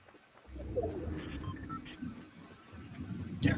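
Birds in the video game Fortnite, with pigeon-like cooing and soft calls heard over ambient game noise, followed by a brief louder sound at the end.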